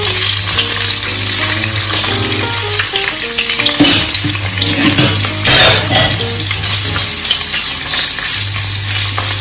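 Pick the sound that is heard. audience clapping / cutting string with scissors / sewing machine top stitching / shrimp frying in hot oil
shrimp frying in hot oil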